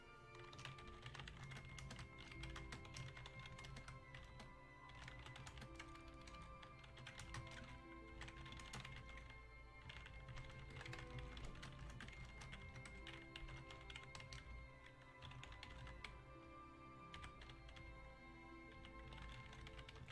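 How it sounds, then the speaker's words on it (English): Steady, rapid clacking comes from a loud computer keyboard during a gaming stream of Final Fantasy IV Pixel Remaster, a continuous patter of keystrokes heard alone with no talking. "I have, like, the loudest keyboard while streaming"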